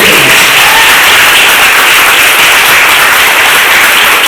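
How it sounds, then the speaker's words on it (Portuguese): A church congregation bursts into a loud, close round of applause during a service, a dense continuous clatter of many hands that holds steady throughout. "Dá uma salva de palmas do Senhor"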